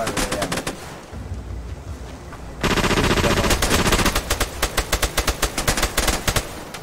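Rapid automatic gunfire in the video game SOCOM Combined Assault, with bursts of sharp shots, a short lull, then dense sustained rattling fire, loud and close.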